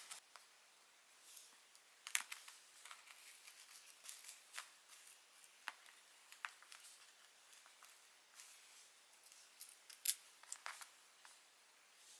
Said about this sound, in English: So I'm just going to cut them and then stick them on to the Bristol board.